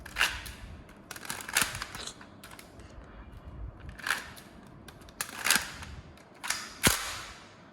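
Lego MP7A1 Mk.2 toy gun being reloaded by hand: a quiet, close series of plastic clicks, snaps and rattles in irregular bursts, with brief pauses between handling noises.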